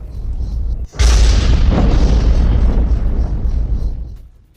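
A massive explosion from an Israeli air strike in Lebanon's Bekaa region, a sudden deep boom after a rumbling lead-in, followed by a long roaring rumble that slowly fades out.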